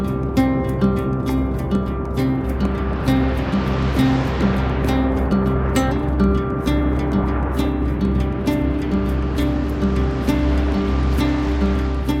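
Ocean waves break at a surf spot, a steady, full wash of surf rolling on without pause for the whole stretch, fairly loud and close, with no talking.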